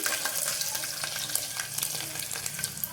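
Crushed garlic, cumin and curry leaves frying in hot oil, giving a dense, continuous close sizzle with crackling pops throughout.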